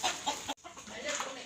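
Fighting roosters kept on a rural pig farm in the Philippines, clucking in short bursts close by, with a brief break midway and farmyard background noise.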